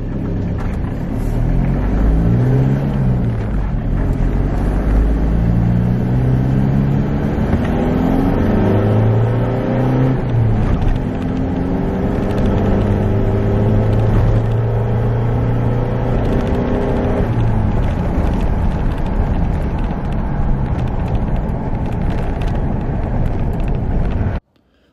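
Ford Ranger turbo pickup accelerating hard in second gear at wide open throttle from about 40 km/h, a loud continuous engine roar climbing steadily in pitch with wind noise over it, cutting off abruptly at the end.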